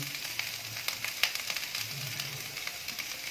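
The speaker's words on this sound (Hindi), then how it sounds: "अब इसमें मोंगरे डालेंगे और इन्हें 3-4 मिनट सौटे करेंगे।" Moongre (sangri pods) sautéing in hot oil in a pan, a soft steady sizzle with faint crackles, close and fairly quiet.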